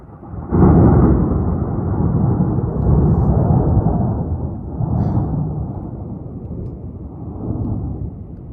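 Thunder rumbles through a mountain storm in the Tetons after a lightning flash, a loud sustained roll that swells, eases and swells again for several seconds with no voices.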